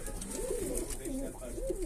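A pigeon coos continuously in low, rolling, throaty warbles, close by, over a constant background hum.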